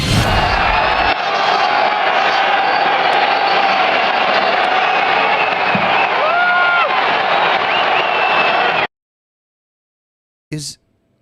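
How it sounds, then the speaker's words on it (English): A big arena crowd at a UFC event roars without a break as Donald Trump appears, a dense, far-off wall of cheering that cuts off suddenly, then a short burst returns. "Its reaction when the crowd saw him for the first time."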